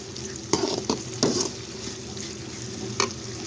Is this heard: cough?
no